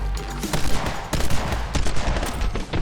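Heavy sustained gunfire in My Friend Pedro, with a loud, dense barrage of overlapping shots and rapid bursts throughout, close and relentless, with no talking.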